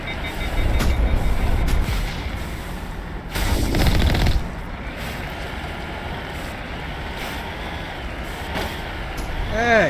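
Gunfire in the video game Mass Effect sounds as a dense, steady stream of shots, with a louder burst in the middle and continuous action noise throughout.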